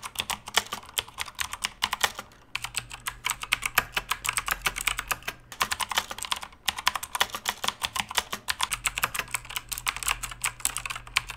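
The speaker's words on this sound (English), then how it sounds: "this is a quick keyboard test between TTC switches and Kale switches" Fast typing on a Gamdias Hermes P1 RGB mechanical keyboard fitted with blue TTC switches, a dense stream of crisp clicky keystrokes, close and loud, with a couple of brief pauses and no talk.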